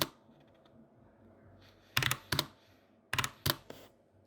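A password is typed on a computer keyboard: a few faint taps, then two tight clusters of sharp, close key clicks separated by a short pause.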